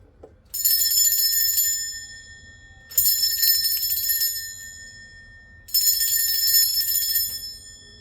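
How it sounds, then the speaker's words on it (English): A hand bell struck three times in a space-cleansing ritual, each strike ringing out bright and close, then slowly fading before the next, at an even pace of about two and a half seconds, with no voices. "I am going to be ringing a bell. This is just to cleanse the space around us."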